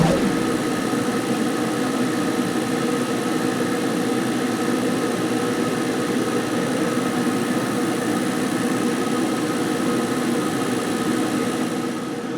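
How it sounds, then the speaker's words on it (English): Steady, loud mechanical drone of a laser cutter burning through material with its exhaust fan running continuously, an even broadband whir with a low hum underneath, unbroken for the whole stretch. "Turn the exhaust fan on and we can start the burn."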